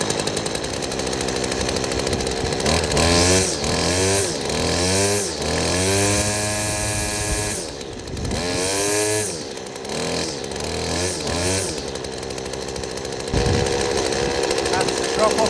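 A McCulloch whipper snipper's small two-stroke engine warms up, a loud steady buzzing whine that repeatedly surges and dips in pitch, with a voice talking over it at times.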